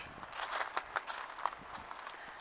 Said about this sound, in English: Excuse the noise, I'm on the gravel